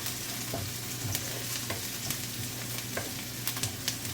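Cabbage stir fry is turned over in a hot pan, giving a soft, continuous sizzle broken by irregular scraping and clinking strokes of a utensil, quiet and close, with no voices.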